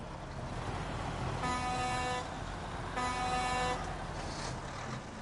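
A truck honking its horn, two loud sustained blasts of about a second and a half each, separated by a short gap, over steady road and engine noise.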